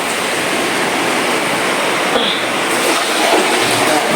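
Water pours steadily into a container, a loud, close, unbroken rushing splash lasting the whole stretch with no pauses.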